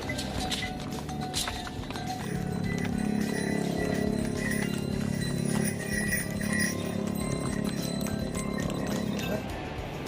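Horses and mules carrying supplies walk a mountain path to Kedarnath, their hooves making a steady, rhythmic clip-clop with occasional metallic clinks over outdoor background noise.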